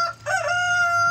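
Dark Brahma rooster crowing on a farm, one close, loud, drawn-out crow with a brief rising cluck before it, over quiet background.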